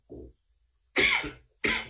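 Several short coughs, close and fairly quiet, separated by brief pauses, with no talking.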